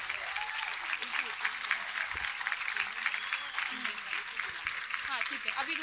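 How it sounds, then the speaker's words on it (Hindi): Audience applause for the chief guest, a major general, at an Independence Day event at a university, steady dense clapping throughout with faint voices mixed in. "एक बार जोरदार तालियां हो जाएं"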